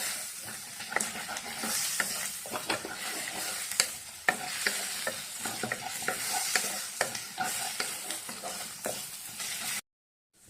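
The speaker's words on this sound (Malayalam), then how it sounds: "ഇത് ഇളക്കിക്കൊണ്ടിരിക്കണം." Onions for fish molee are sautéed in a pan and stirred continuously, with repeated scraping spatula strokes over a steady sizzle, then a brief silence near the end.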